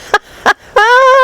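Chickens in a polytunnel: two short clucks followed by a longer, rising, strongly tonal squawk, close and clear.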